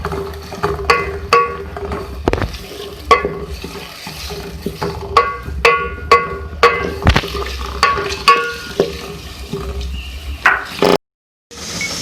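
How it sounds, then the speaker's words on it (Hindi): Onions frying in a pan for chicken korma, a constant sizzle broken by frequent sharp clacks and scrapes of stirring, close and fairly loud, with no voices. "प्याज को हम फ्राई करेंगे, उसको आपने गोल्डन कर लेना है"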